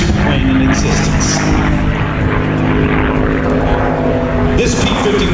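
Loud, continuous propeller drone from a P-51 Mustang flying at the MCAS Beaufort air show, a steady heavy engine roar filling the whole stretch without letting up.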